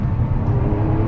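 A Lamborghini Aventador SV engine in Corsa mode, revved hard on track, makes a loud, dense, continuous roar for about a second with a steady high-revving drone and no speech.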